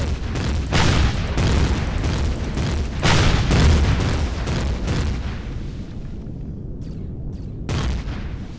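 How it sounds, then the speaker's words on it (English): Sustained barrage of booming blasts and rapid turret gunfire from a radar station's multi-gun turret in the space survival game Empyrion, loud and continuous with heavy low rumble, easing into sharper, sparser bursts near the end. "Oh, it's still shooting at us."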